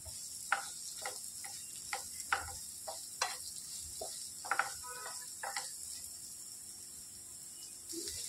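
Radish pieces fry quietly in a pan while a utensil stirs them, giving a series of sharp scraping clicks at an irregular rhythm over a faint, low sizzle.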